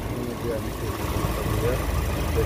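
A 2023 Toyota Yaris hatchback engine idles as a steady low hum throughout, with a faint voice talking over it.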